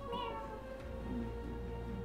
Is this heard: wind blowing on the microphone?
no